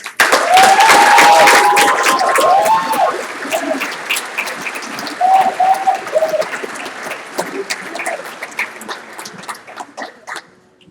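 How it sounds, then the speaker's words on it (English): Applause from banquet guests honoring cadet summit staff, loud at first and then tapering into scattered clapping, with a few brief whistles or cheers rising above it. "Will the Cadet Summit staff please stand for a round of applause?"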